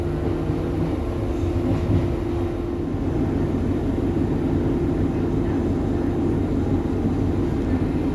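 A passenger train, unit 150104, rumbles and hums steadily at a station, a continuous low engine drone with no pauses.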